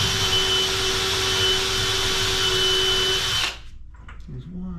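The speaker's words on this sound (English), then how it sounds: "I'm going to go ahead and just pre-drill some pilot holes in this plywood" A power drill bores pilot holes into plywood for mounting an office wall cabinet on metal studs, a loud steady whine running for about three and a half seconds before stopping abruptly, with quiet room noise after.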